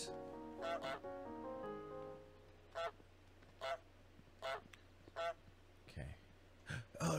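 A cartoon goose in Untitled Goose Game honks repeatedly, sharp nasal honks arriving in short bursts and then spaced singly at irregular intervals over a quiet, low background hum, fairly close and clear.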